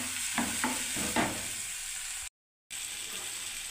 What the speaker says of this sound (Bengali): দেখুন ব্যাস এবার আমি এটা কষতে থাকবো বন্ধুরা।